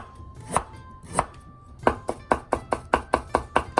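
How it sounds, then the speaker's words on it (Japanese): Rapid knife strokes julienne vegetables on a cutting board for a Japanese fish karaage ankake dish, a few slow chops followed by a steady run of about ten crisp, evenly spaced cuts, close and clear with no talking. "千切りにしていきます。"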